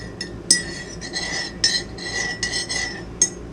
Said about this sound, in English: And then we're just going to give it a quick stir.